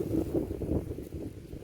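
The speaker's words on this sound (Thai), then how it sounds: "ลมแน่" Gusty wind buffets the microphone outdoors in a steady low rumble lasting under two seconds, with no voices over it.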